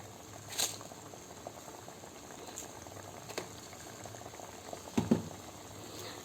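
Egg drop curry simmers in a pot, a faint continuous bubbling with soft pops and a couple of louder plops, close and quiet, no voices.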